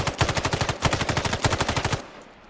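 Rapid automatic gunfire from a gun in the video game Islands of Nyne, a steady stream of about twenty loud, evenly spaced shots over two seconds, then an abrupt stop.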